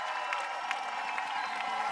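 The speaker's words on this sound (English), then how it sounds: "Standing ovation for Hope." A softball crowd gives a standing ovation to pitcher Hope Trautwein, sustained applause and cheering with steady clapping at a moderate distance.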